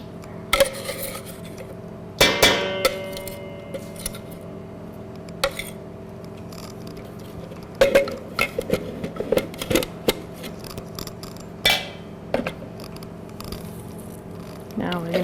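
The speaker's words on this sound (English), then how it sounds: "So you're mincing the garlic and ginger together" A knife chops garlic and ginger together on a cutting board, producing irregular sharp taps and clusters of quick chops over a quiet background.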